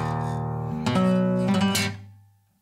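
A string instrument plays a rising figure of bowed notes with a trill-like flutter, ending in a sharp snapped Bartók pizzicato before the tone fades out; close, solo, no voices.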